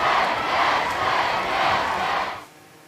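A Blood Bowl video game crowd roars in a loud, steady swell of cheering that holds for over two seconds and then drops off abruptly.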